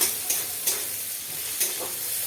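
Chopped garlic and onion frying with tempering spices in oil, a bright steady sizzle broken by three quick stirring scrapes of a spatula against the pan.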